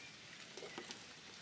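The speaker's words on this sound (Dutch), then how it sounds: "Regent het nog hard?" Faint, steady rain patters on a surface at a campsite, a soft even hiss with a few louder drops.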